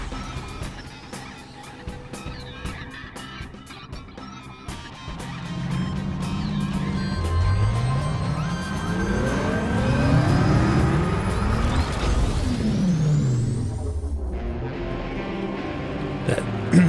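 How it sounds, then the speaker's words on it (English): A rising, whirring rev-up power sound from the video game Metroid Prime 4: Beyond builds steadily in pitch over several seconds, with sweeping tones layered over a low rumble before dropping off near the end. "That rev up power sound sounds a lot like the some of the boss sounds in Super Metroid."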